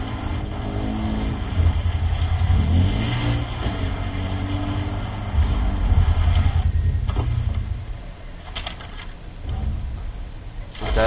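Car engine revving and droning while driving in Far Cry 3, pitch rising and falling through gear changes over several seconds, with someone talking over it.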